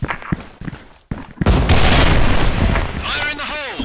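A grenade blows up in the shooter game Special Force 2, a loud, sustained blast with rumbling debris that follows brief bursts of game noise and radio voices, with a short silence just before it.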